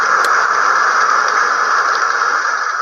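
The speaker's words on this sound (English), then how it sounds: "Rain." Recorded rain from a battery-powered relaxation sleep aid plays as a steady, loud, hissing static-like wash, close up and unbroken, with no talk.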